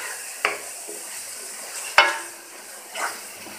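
Bottle gourd bharta roasting with spices in a pan, heard as a quiet background sizzle broken by three spatula scrapes or clinks against the pan, the middle one loudest.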